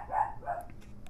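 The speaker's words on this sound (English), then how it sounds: "Freaking phone's ringing off the hook, dog's barking, come on." A dog barks twice in Goat Simulator gameplay on Xbox One, two fairly faint yaps close together, with a few small clicks after them and no talking.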